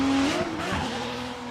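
A Toyota GR86 race car drifts at Okayama International Circuit, its engine droning loud and close with a rising tone as the tires squeal through the turn.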